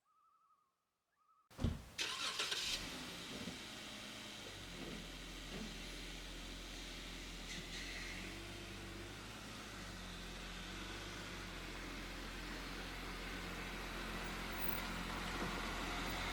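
A car on a half-hour drive to a trailhead lodge in the Adirondack High Peaks, starting after a brief silence with a burst of noise, then a steady low engine and road hum that holds evenly from inside the cabin.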